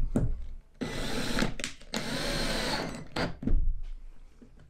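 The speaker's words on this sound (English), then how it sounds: "Use the drill as a countersink" A power drill works as a countersink on a screw hole while a tambour door is fitted in a Vauxhall Vivaro campervan, whirring in several bursts of about a second each with brief pauses between them, close and fairly loud, with no talk.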